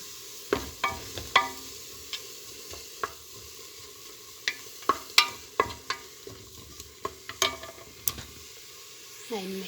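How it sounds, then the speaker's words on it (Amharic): Onions frying in oil in a pan, stirred now and then: a steady low sizzle runs throughout, broken by sharp scraping clicks of the spoon against the pan at irregular intervals, close up. "አሁን ሽንኩርቴን እያበሰልኩ ነው።"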